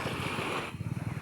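Boat engines of fishing boats coming back from the open sea toward Patungan Beach, heard from the shore as a low throbbing hum mixed with wind and surf, shifting into a faster rhythmic pulsing near the end.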